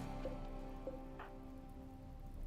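Steady rain in the video game RimWorld, a constant soft patter spread across the whole stretch at low level, with a few faint tonal game sounds poking through and no talk.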